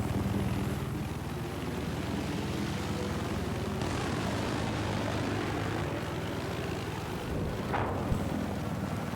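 A helicopter in a multiplayer shooter match, its steady rotor thrum and engine roar droning continuously at moderate distance, with faint game sounds layered over it.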